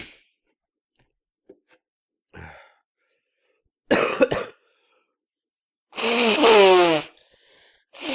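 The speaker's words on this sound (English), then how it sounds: "Oh, I gotta sneeze." A single sneeze bursts out indoors, loud and close, preceded by a short sharp intake of breath and a brief cough-like sound, with quiet stretches between.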